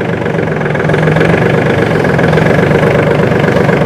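A Swaraj Target 630 tractor engine runs in reverse gear with a loud, steady diesel chug, close by and unbroken, with no voices.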